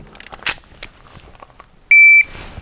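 A shot timer gives a single sharp, loud electronic start beep at an indoor pistol session, preceded by faint rustling and handling noises.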